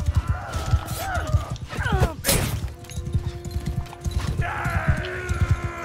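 Horse hooves clip-clop in a quick steady rhythm in Mount and Blade II: Bannerlord, with a brief neigh and metallic clashes of a battle around the rider, loud and close throughout.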